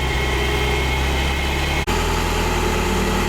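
A 1985 Ferrari Mondial QV engine idles steadily close up, a constant even hum with one brief dip partway through and no talk.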